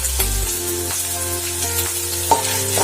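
Crushed garlic frying in a pan for Kerala egg roast, a close steady sizzle broken by several scraping stirs and one sharp clink of a spoon, with no one speaking.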